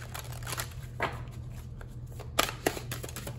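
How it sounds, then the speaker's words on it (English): Tarot cards being shuffled by hand, a run of soft papery riffles and flicks with a few sharper snaps near the end, close and fairly quiet over a steady low hum. "Let's get some Archangel guidance, and then we'll pull a few tarot cards."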